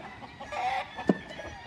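Roosters and chickens at a poultry farm in the Philippines cluck faintly in the background, with one short, sharper call standing out amid a low outdoor murmur.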